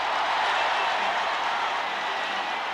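A sellout crowd of nearly 42,000 at a 1985 World Series baseball game between the Kansas City Royals and St. Louis Cardinals roars and applauds in a steady, dense wall of cheering as a run scores.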